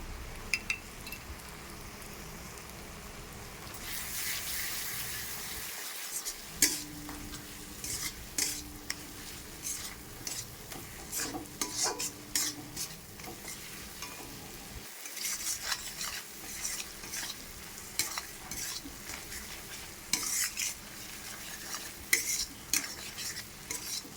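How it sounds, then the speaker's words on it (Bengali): A masala paste with ground cashew and melon seeds is stirred and sautéed in a pan for chital fish muithya: a close, steady sizzle under repeated spoon scrapes and sharp knocks against the pan, with no talking. "মশলাটা ভালো করে কষানো হয়ে গেছে"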